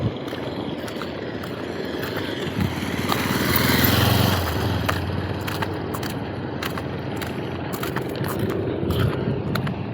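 Fibreglass boat engine running in a seaside harbour, a continuous mid-level motor drone with faint clicks and splashes, swelling briefly then settling, no voices.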